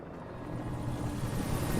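A helicopter in the video game Alan Wake gives off a brief, steady rotor drone that builds slightly in loudness, with no speech.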